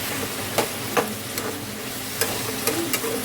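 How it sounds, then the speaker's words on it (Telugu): Chicken fries in a pan under a soft steady sizzle, with a spoon scraping and clacking against the pan in irregular strokes. "ఇప్పుడు కొంచెం కలుపుకుందాం"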